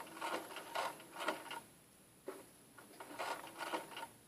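A home sewing machine runs a zigzag stitch while sewing fabric bias strips for Chinese knot buttons, with short bursts of whirring, pauses between them, and a faint steady high whine underneath.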